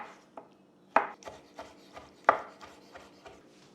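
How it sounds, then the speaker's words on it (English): Knife chopping roasted red peppers roughly on a cutting board, about eight to ten uneven close chops with two sharper hits, no talking. "I'm just going to give these a rough chop."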